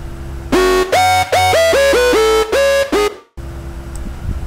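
A screeching Serum synth lead with macro-driven pitch rises, playing a loud, bright chiming melody of about seven rising, bending notes before cutting off, followed by a low residual hiss.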